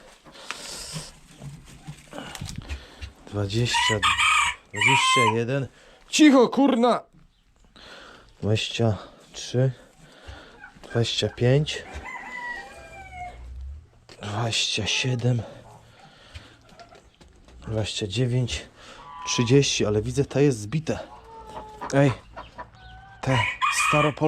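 Chickens cluck and squawk nearby in irregular bursts, with occasional crowing and people talking over them, while ducks are also kept nearby.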